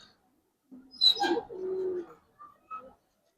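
Giribaz silver pigeons give one short, close coo, trailed by a few faint, soft notes in otherwise quiet surroundings.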